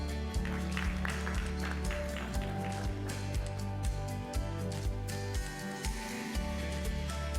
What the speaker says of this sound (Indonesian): kita iringi dengan tepuk tangan yang meriah Novia Bahmi